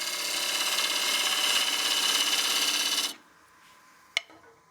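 A wood lathe cuts a tenon on a partially seasoned bowl, with the gouge giving a loud, steady rasping scrape for about three seconds that then stops abruptly, followed by a single sharp tap.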